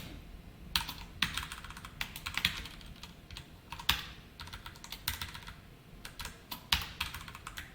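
Rapid, uneven bursts of close computer keyboard typing while Java code is entered, with quick clicky keystrokes and short pauses between runs, no voices.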